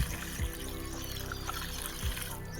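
Water splashing out of a bucket onto the ground in two quick pours, a short gush each time over a steady wet background hiss.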